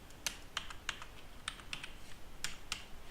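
A computer keyboard's spacebar and keys pressed while writing Java calculator code, quiet sharp clicks in an irregular run of about nine presses, close and alone with no talking.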